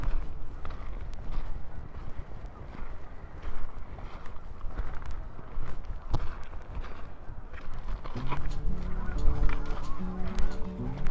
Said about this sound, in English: there's about 100 geese.